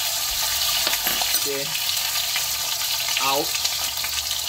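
Beef searing in hot oil in a small pot, a loud, steady sizzle and crackle throughout, with brief spoken words from someone standing at the stove.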